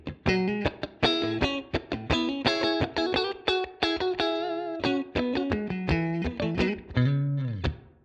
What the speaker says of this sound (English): It's Ibanez, it's green, it's kind of like a tube screamer I guess